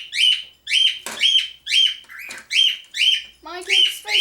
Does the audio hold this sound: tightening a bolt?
no